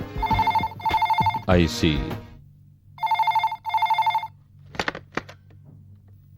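A telephone rings inside a house in two pairs of bright, close, repeating bell bursts, with voices speaking between and over the rings.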